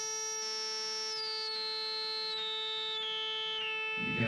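A steady electronic tone from an EMS Synthi AKS or Arturia Synthi V holds while a high, distorted partial steps down in pitch in several stages, ending with a low rumble.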